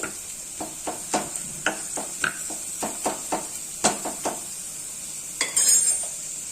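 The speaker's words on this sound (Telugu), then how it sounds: "ఇదిగోండి, తాలింపు బాగా వేగుతుంది." Tempering spices for dal fry in hot oil with a steady bright sizzle, broken by repeated clinks and scrapes of a spoon stirring the pan, close and fairly loud.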